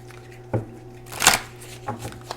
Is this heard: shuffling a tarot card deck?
yes